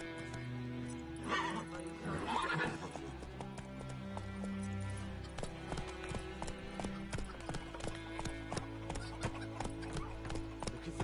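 A horse in The Witcher 3 gallops with steady, rapid hoofbeats on the ground, close and continuous, with a brief whinny and snort near the start.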